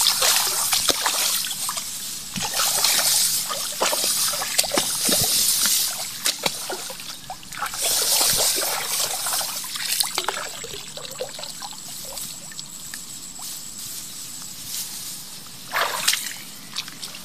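Rice plant roots are rinsed by hand in water, with continuous close trickling, sloshing and dripping, brief splashes and handling noises throughout.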